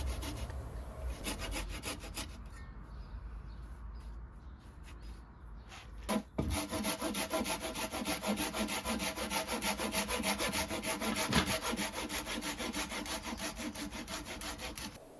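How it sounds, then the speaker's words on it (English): Hand saw cutting glued dowels flush with the top face of a sleeper garden bench, a steady run of rhythmic rasping back-and-forth strokes, close and continuous, after a quieter opening. "I would flush trim them before letting the glue dry, in case I broke the glue bond when sawing."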